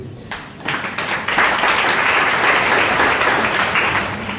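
An audience breaks into applause that swells quickly into sustained, dense clapping and continues loudly throughout.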